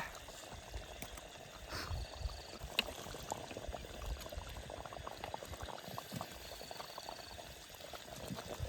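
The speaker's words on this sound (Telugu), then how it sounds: "చికెన్ అయితే బాగా ఉడికిపోయింది" Chicken curry bubbles in a pot over a village wood fire, a steady close simmer of popping bubbles and liquid gurgles with faint crackles, no talk over it.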